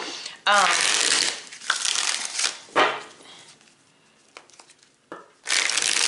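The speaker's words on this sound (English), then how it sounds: "I'm shuffling the cards here" Cards being shuffled in several bursts, crisp riffling and rustling with pauses and lighter handling sounds between, close by.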